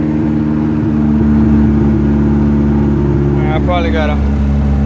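A car engine running on junkyard flex fuel injectors, a loud steady low idle drone with a brief rise in revs as someone speaks over it.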